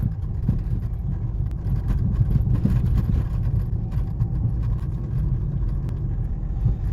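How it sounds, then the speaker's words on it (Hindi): A Ford Ecosport with about 150,000 km on it, driving along a road, gives a steady low engine drone and road rumble inside the cabin, fairly loud and continuous, with a little wind noise and no talking. "इंजन की आवाज़ थोड़ी बहुत आती है"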